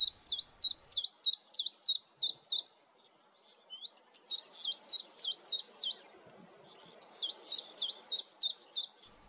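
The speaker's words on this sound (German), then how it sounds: "Zilpzalp. Es kann manchmal auch kleine Variationen geben, zum Beispiel, dass er in 3-Tonhöhe singt" Common chiffchaff singing its two-note zilp-zalp song, a steady run of sharp high chirps repeated in three bursts with short gaps, clear and close with no other sounds.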